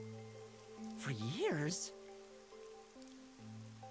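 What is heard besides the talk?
falling rain in video game Master Detective Archives: Rain Code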